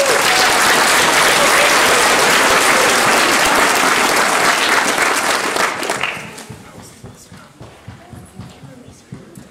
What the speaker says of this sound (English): Give Lorena a round of applause.